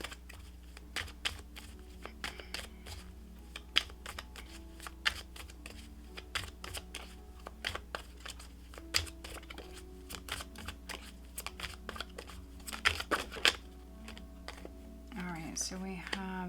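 Tarot cards are shuffled with rapid, dry clicking and riffling, continuous and close up, with faint rustling between bursts.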